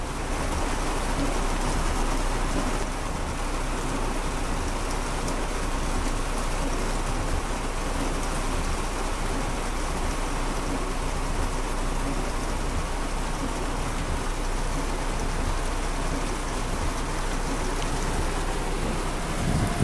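Heavy rain pours during a storm, a loud, dense, unbroken hiss of drops hitting surfaces that stays constant throughout, with no clear voices.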